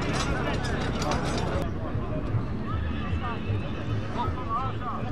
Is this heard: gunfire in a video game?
no